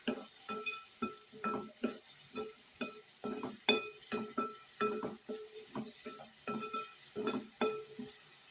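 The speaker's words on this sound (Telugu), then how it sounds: "ఇప్పుడు ఈ ఉల్లిపాయలు గోల్డెన్ బ్రౌన్ కలర్ వచ్చే వరకు అయితే మనం వేపుకోవాలి." Sliced onions with a little turmeric frying in a pan, stirred with a utensil that clinks against the metal in a steady rhythm of scrapes and taps over a low sizzle, close and moderately loud with no talking.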